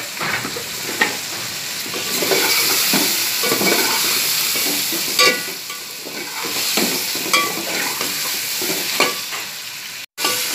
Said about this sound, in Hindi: ये इसके अंदर 2 चम्मच शामिल कर देंगे और इसको थोड़ा सा भूनेंगे।